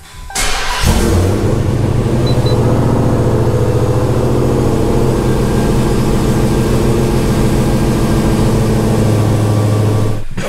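A Dodge Hellcat V8 fitted with new fuel injectors cranks over, fires up and settles into a loud, steady, close idle that runs continuously with no talk.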